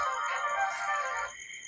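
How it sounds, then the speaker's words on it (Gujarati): A mobile phone ringtone announces an incoming call, a bright tonal melody sounding for about a second before cutting off into quiet room noise. "એટલે આ તો મારો આઢુનો ફોન આવ્યો"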